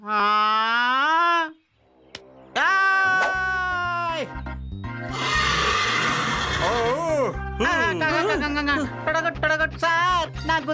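A horse neighs loudly in several long, wavering whinnies across the clip, close and prominent, with a short pause early on and overlapping vocal sounds in a cartoon scene.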